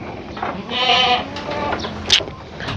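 Goats bleat on a small Thai goat farm, one long wavering bleat swelling near the middle, with a few shorter calls and a sharp high cry toward the end over a busy outdoor background.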